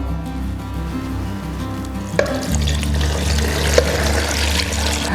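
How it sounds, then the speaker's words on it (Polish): Water pours into a cooking pot over rabbit with parsley root, carrots, celery, leek and onions, a steady close splashing and trickling that grows fuller partway through, with no talk. "Zalewamy wodą."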